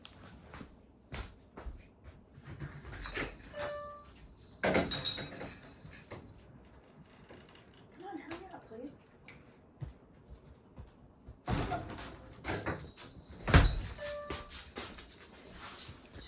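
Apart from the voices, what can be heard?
door opening and closing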